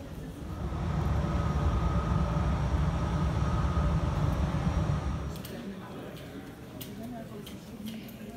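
A metro train in Barcelona rumbles along at a steady loud roar for several seconds, then eases to a quieter hum with scattered clanks, all alone without talk.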